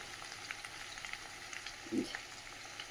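Taro and potatoes fry in a pan with salt, giving a quiet, steady sizzle and hiss throughout, with a slightly louder burst of sputtering near the middle.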